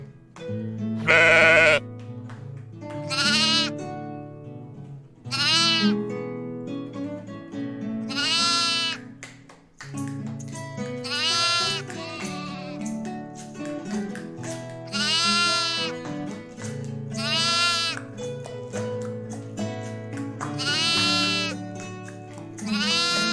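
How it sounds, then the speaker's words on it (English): Sheep bleat repeatedly with wavering, nasal cries over a steady tonal backing, several calls spaced through the clip at moderate loudness. "This sheep says, "Ba, ba," say ba."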